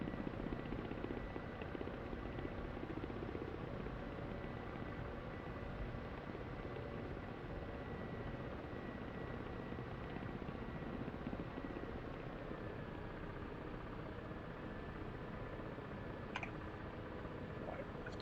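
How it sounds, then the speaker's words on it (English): Ka-50 helicopter rotor in the DCS World flight sim, a steady droning whir with a constant noisy wash and a faint sustained tone, unchanging and continuous for the whole stretch. "There's that new rotor sound if you wanted to know what it was."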